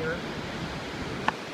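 Ocean waves wash onto a beach at night, a soft continuous rolling rush with light wind, and one sharp brief tap near the end.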